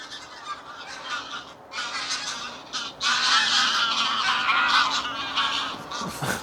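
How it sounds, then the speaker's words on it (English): A flock of geese honking loudly and continuously, many overlapping calls close by, swelling louder partway through. "There's a fuck ton of geese. They're very loud."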